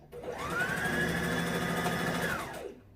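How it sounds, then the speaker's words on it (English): A sewing machine stitches pocket pieces onto a jersey knit dress in one steady, continuous mechanical whir of about two and a half seconds, starting up and then winding down. "I'm going to sew all my pocket pieces in place"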